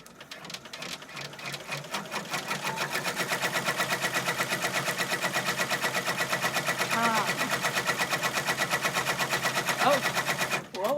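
An embroidery sewing machine stitches out a word, a fast, even mechanical chatter of needle strokes running steadily for about ten seconds, with brief voices murmuring over it.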